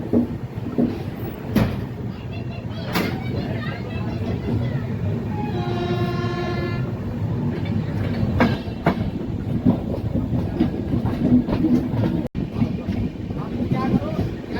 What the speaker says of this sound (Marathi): 10:23 परभणी जंक्शनवरून आपली ट्रेन निघालेली आहे 2 मिनिटाच्या स्टॉप नंतर